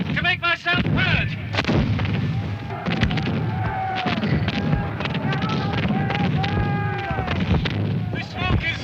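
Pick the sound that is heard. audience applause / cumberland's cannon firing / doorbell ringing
cumberland's cannon firing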